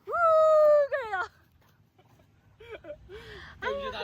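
Two dogs give high, drawn-out whining yelps and squeaky whimpers up close, with fainter softer whines and a brief pause between bursts.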